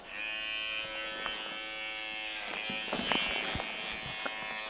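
An electric shaver runs steadily through a goat's coat, giving a continuous close buzz with a tonal whine, broken by occasional clicks and brief shifts in pitch as the blades move through the hair.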